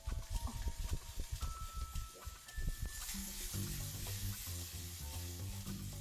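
Green beans and bacon crackle and sizzle in a hot pan as they are stirred, with sharp clicks and scrapes of a utensil at first, then a steady frying hiss close by.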